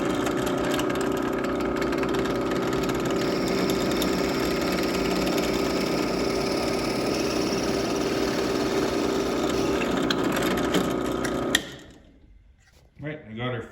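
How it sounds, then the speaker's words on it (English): A power drill bores an access hole into a wooden playing card tray, a steady whining motor running continuously for over ten seconds before cutting off abruptly, followed by brief knocks and handling sounds. "now we gotta drill an access hole so we can get these screws from underneath"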